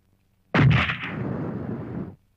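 A single loud gunshot in a Filipino comedy film, a sharp blast followed by a long, heavy, rumbling decay that cuts off abruptly.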